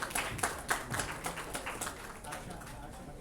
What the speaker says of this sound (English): Ladies and gentlemen, let's give a big round of applause.